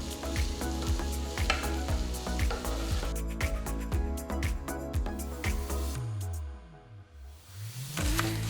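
Sliced onion and chopped garlic sauté in olive oil, a steady close sizzle broken by rhythmic scraping stirs from a spatula.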